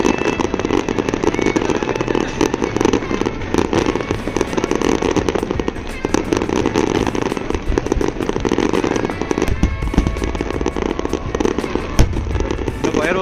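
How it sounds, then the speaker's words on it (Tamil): Fireworks bursting at an Oman National Day celebration, a dense, continuous barrage of crackling explosions and booms that never lets up, loud and close, with faint crowd noise mixed in. "இந்த ஃபயர் ஒர்க்ஸ் வந்து இங்கே மட்டும் இல்லைங்க"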